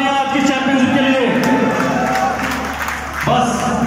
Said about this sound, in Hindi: एक बार जोरदार तालियां आज की चैंपियनशिप के लिए